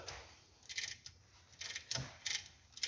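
A ratchet wrench cranks on a 21 mm bolt of a front axle beam, giving several short bursts of quick metallic clicking close up, separated by brief pauses.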